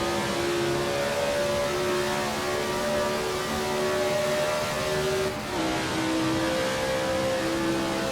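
A Brabham race car in a racing video game set at the 1967 South African Grand Prix accelerates hard, its engine holding a loud, steady high-pitched whine throughout, with a brief dip near the end.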